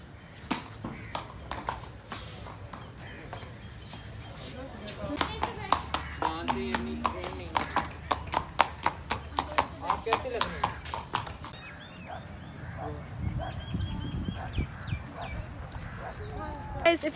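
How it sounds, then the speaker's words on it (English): Hooves clip-clop in a steady walking rhythm, close by, at a racecourse park in Lahore, with people talking in the background and a brief whinny partway through. "look at this horse"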